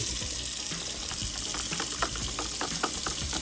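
Gravy mix is stirred quickly into hot water in a pan. A close, steady watery swish carries quick clinks and scrapes from the stirring, with no voices.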